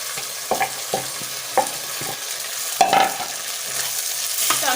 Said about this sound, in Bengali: এখন আমি এর মধ্যে দিয়ে দেব ফুলকপিগুলো